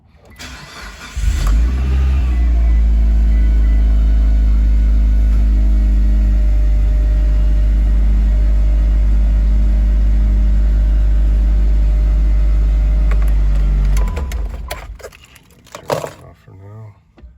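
A traded-in car that has sat locked on a showroom floor for weeks cranks and fires on a cold start, then holds a loud, deep, steady idle for about twelve seconds before shutting off; a voice talks over it near the end.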